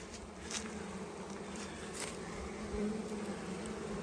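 Honeybees buzzing around newly installed beehives: a steady, dense swarm hum with individual bees zipping past the microphone, faint and continuous outdoors.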